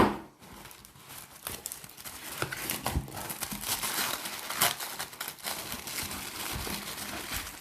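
A blade slices slowly through cardboard on a box being unpacked, giving close, irregular crinkling and scraping crackles that continue for several seconds at a moderate level, with a few sharper snaps along the way.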